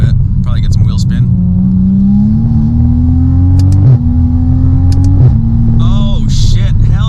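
A car under hard acceleration with a stage 3 transmission tune, engine note climbing steadily through gears with brief shift dips, loud and continuous, with tire wheel spin in the mix and a voice talking briefly.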